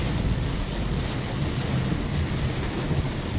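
Heavy rainstorm battering a car while driving, a dense steady hiss and roar of rain and road spray with low rumble, constant and close with no talking.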